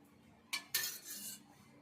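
Wheat flour dough is mixed with oil in a bowl, a couple of quick spoon or utensil scrapes and clinks against the dish followed by a short stirring rustle, faint and close with no talking.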